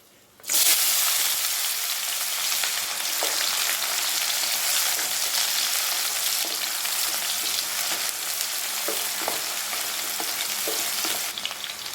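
Dried red chilies and small shallots hit hot sesame oil, bursting into a loud, steady, close sizzle that holds for the whole stretch with faint stirring clicks underneath, no talking.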